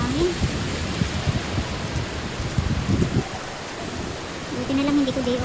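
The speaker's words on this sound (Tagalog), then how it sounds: "Grabe na ang lakas ng ulan dito oh" Heavy rain pours with gusting wind during a Hong Kong black-rain storm, a steady loud wash with low rumbling bursts, while a person talks intermittently over it.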